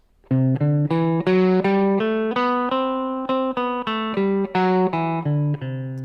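Single guitar notes picked one at a time, climbing up a one-octave C Lydian scale and then back down in an even, steady rhythm, clear and close.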